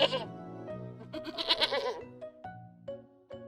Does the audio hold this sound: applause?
no